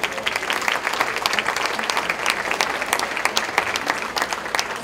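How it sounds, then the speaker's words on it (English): Audience applause at a school jazz coffee concert for a student jazz band, dense, lively clapping with sharp individual claps standing out, close and sustained for about five seconds with no talking. "So if we get a round of applause for them for working so hard on that."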